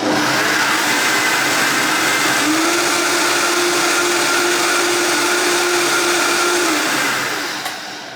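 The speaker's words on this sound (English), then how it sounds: "Let's blend the seasonings." A kitchen blender whirs steadily at full power as it blends seasonings for red lentil flatbread, a loud, continuous motor drone that holds its pitch for about eight seconds before easing off slightly at the end, with no talking.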